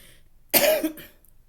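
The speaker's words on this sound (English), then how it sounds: "Straight up, real cough." A single sharp cough bursts out close by, followed by a brief fainter rasp, with near silence around it.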